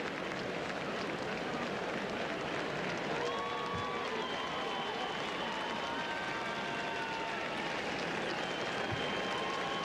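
Racetrack crowd at the Breeders' Cup cheering and applauding jockey Julie Krone after her win, a continuous broad wash of clapping and cheers with faint tonal calls drifting over it.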